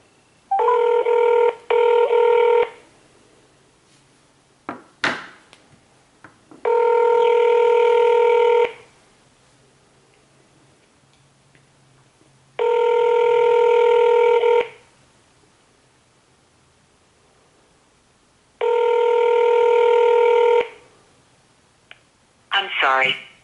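Outgoing telephone call ringback: four evenly spaced two-second ring tones with long silent gaps, clear and alone, with a few faint clicks between rings.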